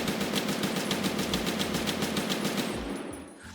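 Rapid automatic gunfire from a weapon recoil test in the video game Escape From Tarkov, a steady loud stream of shots lasting about three seconds before cutting off into a short fading tail.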